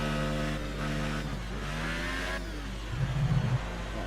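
A racing car engine revs hard on a flying lap in a racing game, its tone climbing through gear changes with steady, loud drone and a rougher burst of engine noise toward the end, no talking over it.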